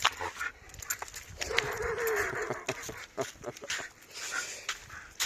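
A dog on a walk gives several quick yelps and whimpers, fairly faint, among light scuffling noise.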